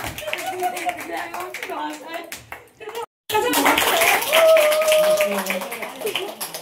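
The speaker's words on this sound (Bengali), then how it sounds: "তোমার জন্য একটা জোরে হাততালি।" Loud applause breaks out among students at a ladies' beauty parlour academy. Hands clap in a dense, sustained burst after a short pause, and voices talk around it.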